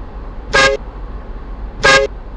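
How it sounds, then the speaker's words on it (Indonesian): Two short, loud car horn honks from a mobile driving game app, evenly spaced with quiet gaps between them. "Lalu saya coba tes klakson yang ada di setiran."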